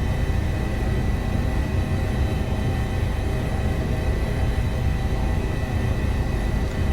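Helicopter flying over the Alps near Chamonix in a flight simulator, a steady loud droning rotor and engine hum with a constant low rumble.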